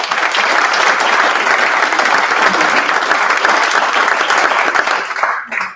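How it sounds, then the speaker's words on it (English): An audience at a Next Gen WA showcase awards event in 2023 breaks into loud, dense applause for an award winner, sustained and close before cutting off abruptly at the end. "Could we please give Shithij a massive round of applause?"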